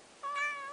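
A cat meows close by, one drawn-out tonal call rising and then falling, heard on its own with no talking over it.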